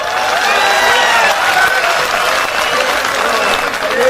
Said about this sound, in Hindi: एक बार जरा दिल रखने के लिए ढंग से ताली बजा दो